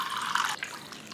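Water poured from a cup into a bowl of flour and salt for homemade tortilla dough, a steady close splash lasting about half a second before trailing off into faint trickling.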